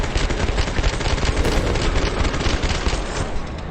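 Rapid gunfire in the video game Starfield, a loud, dense stream of automatic shots rattling without pause for several seconds, close and unaccompanied by talk.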